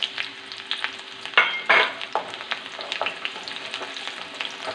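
Chili and onion hit hot oil in a pan for a homestyle rasam, giving a close, crackling sizzle with sharp pops and bursts as they are stirred, settling into steady spitting.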